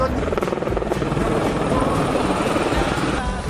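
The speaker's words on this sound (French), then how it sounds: "On serait bien monté en hélico non?" A helicopter flying near Mont Blanc, its loud rapid rotor thump and engine roar filling the scene continuously, close and steady, with voices talking underneath.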